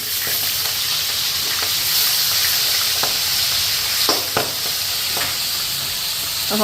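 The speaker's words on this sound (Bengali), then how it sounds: "তো দেখো কত দূরের থেকে আমি ওই যে মাছ উল্টাইতেছি" Aar fish pieces sizzle steadily in hot oil, a dense continuous hiss broken by a few sharp clicks and scrapes as the pieces are turned, no talking.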